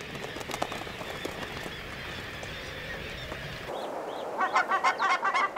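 Barnacle geese honk in a rapid run of calls near the end, following a stretch of rushing, wind-like noise with scattered faint bird sounds, on an Arctic cliff.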